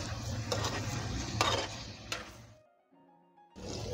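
Chicken pieces are stirred into frying masala in a tawa-style pan, with close scraping and clattering stirs over a steady sizzle, then a brief near-silent pause before the sizzle returns.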